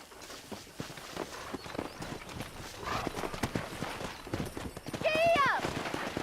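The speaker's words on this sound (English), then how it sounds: "That ranch hand said there's a pack of wild horses nearby." Horse hooves clip-clop steadily on the ground in the Red Dead Redemption video game, with a horse whinnying near the end over a busy backdrop of speech and game sounds.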